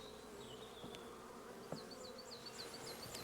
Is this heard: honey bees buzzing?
yes